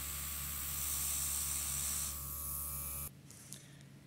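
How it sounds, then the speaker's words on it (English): Red nail color sprays in a continuous hiss over the edges of a leaf stencil on a nail, then cuts off, leaving faint handling noises. "Now with red, we're going to spray the edges of our leaf."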